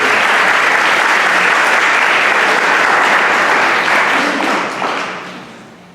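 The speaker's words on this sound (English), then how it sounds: "can you give these folks a round of applause too?" Sustained audience applause at a town hall meeting fills the room, loud and steady with dense clapping, then tapers off toward the end.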